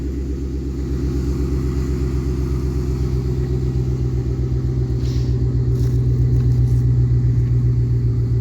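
A 2005 GMC Envoy Denali's 5.3 V8 idles with a deep, even rumble and fast steady pulsing, close by and swelling slightly louder toward the end.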